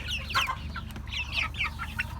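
A backyard flock of grown Türken, Ameraucana and village chickens, mostly roosters, clucks in quick, scattered bursts close by over a low steady background hum.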